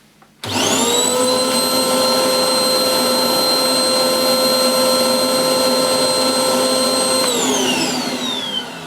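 A Hoover Blaze bagless cylinder vacuum cleaner fitted with an H-Lab Carpet Extra nozzle runs over hair-strewn carpet. It starts up loudly with a steady, high whining roar, holds for several seconds, then winds down near the end.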